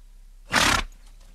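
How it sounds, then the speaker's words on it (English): A single loud, breathy horse call of about a third of a second bursts out of near silence, rough and roaring in tone, from a recording of horse sounds. "there's a couple of different horse sounds in here that we could use"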